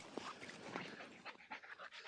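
Young pointing dog panting fast and rhythmically close by, soft breathy gasps at low volume with no talk.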